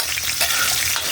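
Chopped onions sizzle and crackle in a hot pan of oil while eskabeche of dried fish is cooked, a dense, steady frying hiss heard up close with no talking.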